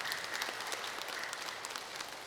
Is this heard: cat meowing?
no